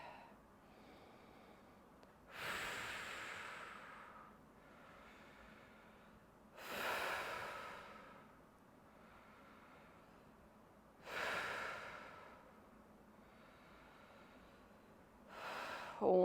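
Slow, deep breaths during a guided hip stretch at home, four broad airy exhales spaced about four seconds apart, each swelling and fading, close and fairly quiet with no talking.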